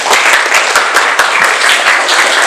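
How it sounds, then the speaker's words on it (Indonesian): A classroom applauds a student with loud, close clapping from many hands, the sharp individual claps blending into a steady burst. "Tepuk tangan untuk Nadifa."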